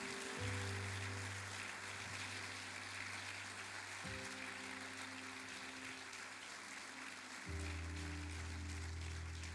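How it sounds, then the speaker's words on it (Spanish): A church congregation applauding: a sustained, even hiss of many hands clapping over steady keyboard chords that change a few times, with no talking. "Denle un aplauso más fuerte al Señor."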